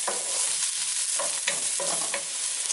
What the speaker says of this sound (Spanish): Después de 1 minuto que ya se citronó la cebolla, voy a agregar los ajos ya picaditos